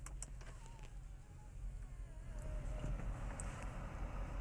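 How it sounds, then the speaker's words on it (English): A 2014 Audi S6 engine started by push-button, a faint whir and rising hum that builds into a steady idle, heard from inside the cabin with no talk. "we're going to go over some of the controls by starting the vehicle up, which has got the press start"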